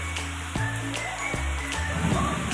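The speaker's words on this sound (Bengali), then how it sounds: "হঠাৎ কীরকম বৃষ্টি নামলো" Steady rain beating down over a beach, a continuous broadband wash with occasional louder splashes and drips, close and even throughout with no voices.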